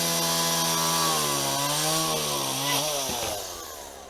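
A chainsaw cuts wood in a forest during trail building, its engine droning loud and close, the pitch shifting as the chain bites into the wood and then easing off toward the end.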